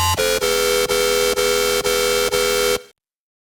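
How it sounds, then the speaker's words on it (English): A bright, buzzy Serum synthesizer lead plays a series of sustained, evenly repeated notes, loud and steady, then cuts off abruptly. "So then the lead sound is going to sound like this."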